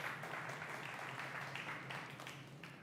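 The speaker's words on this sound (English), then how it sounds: "So another round of applause for Ansgar." Conference audience applauding a speaker, a soft, smeared wash of many hands clapping that stays steady for a few seconds, distant and fairly faint.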